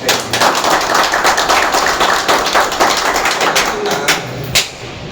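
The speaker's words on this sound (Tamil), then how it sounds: "கைதட்டுறது வந்து" Steady clapping from a seated group at a devotees' trust management meeting, a continuous patter of hand claps with a few sharper single claps near the end.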